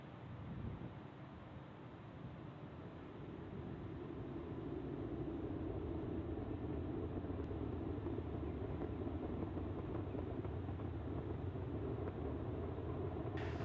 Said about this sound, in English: Falcon 9 has successfully lifted off from Launch Complex 39A at the Kennedy Space Center